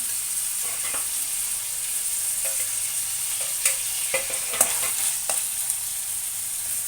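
Ginger garlic paste and onions with salt fry in a hot pan as a steady, loud sizzle, while a spoon stirs and scrapes now and then, making short clicks over the hiss; no one talks.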